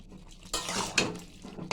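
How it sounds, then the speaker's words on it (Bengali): Utensil scraping and stirring jackfruit curry with ghee in a pan, a few close clanks and rustling strokes over a short span with no talking. "নাড়িয়ে নিলাম"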